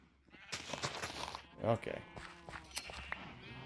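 Sheep bleating in Minecraft while looking for one more light blue sheep, a short bleat mid-clip among footsteps and game noise, with someone talking over it.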